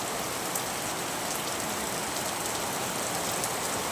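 Steady rain pours down at a village house where water has pooled inside the yard, a dense, even hiss of drops drumming on surfaces with no voices.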